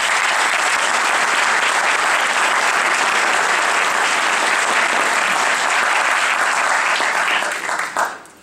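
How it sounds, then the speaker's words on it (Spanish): Loud, sustained applause from a lecture audience, a thick wash of many hands clapping evenly for several seconds before dropping away abruptly at the end. "el primer aplauso de la noche para estas personas"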